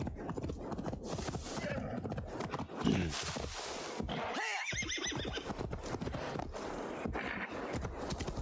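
Horse in Assassin's Creed Valhalla neighing loudly amid clip-clopping hooves and game ambience, with a clear whinny in the middle and a person talking over parts of it.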